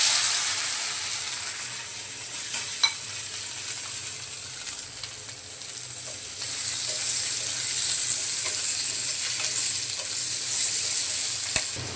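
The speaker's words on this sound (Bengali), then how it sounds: "মাছ ভাজা তেলে আলুগুলো ভেজে নেব।" Boiled potatoes frying in leftover oil from frying fish, a steady bright sizzle with occasional crackles and soft stirring, close and continuous with no talk.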